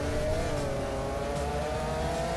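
Fast Lamborghini taxi driving in the Roblox game Taxi Boss, a steady whirring engine drone held at high revs throughout, no talk over it.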